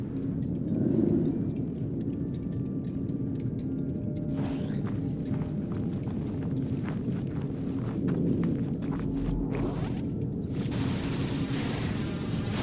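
Horse hooves clip-clop steadily through No Man's Sky, a baby horse trotting along in a steady rhythm at a constant level, with no talking over it.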